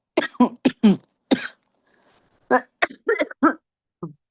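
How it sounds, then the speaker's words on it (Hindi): A burst of harsh, rapid coughing, several hacks in quick succession, a short pause, then more coughs trailing off, close and fairly loud. "खांसी एकदम से खिंच गई है।"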